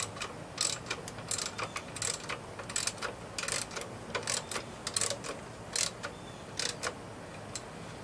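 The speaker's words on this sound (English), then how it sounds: "I think I can go ahead and tighten them up the rest of the way" A bolt is tightened on the mounting bracket of a reel mower handle brace, giving repeated close ratcheting clicks in irregular bursts across the whole stretch, with no talking.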